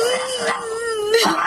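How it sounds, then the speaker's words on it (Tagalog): A dog howls close and loud in one long wavering tone that bends and breaks at the end, with a slight whimpering quality, alone without talk. "Ah, mga aso."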